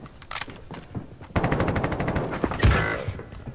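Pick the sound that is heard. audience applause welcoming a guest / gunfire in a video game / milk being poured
gunfire in a video game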